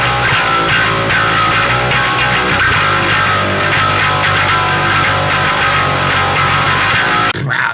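A heavily distorted metal guitar played through the Neural DSP Parallax X bass plugin churns out a loud, dense, sustained riff that cuts off abruptly near the end.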